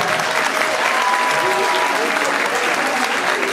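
A crowd applauds steadily throughout at an event honoring Congolese achievers, the clapping dense and continuous, with faint tonal sounds and possible voices under it.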